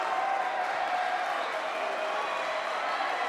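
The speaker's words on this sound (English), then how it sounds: "the crowd is going wild here" Packed ice hockey arena crowd at a high school game, a dense continuous wash of applause and cheering at steady volume throughout.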